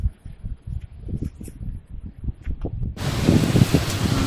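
Seaside wind on a beach: soft rustling and handling sounds at first, then a sudden, steady blustery roar of wind hitting the microphone for the last second or so.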